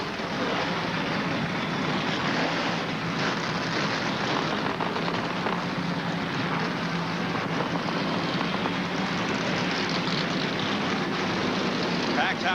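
Forty-two NASCAR Winston Cup race cars firing up together at a packed Phoenix track, a loud continuous roar of engines with a broad, steady rumble throughout, crowd noise mixed in.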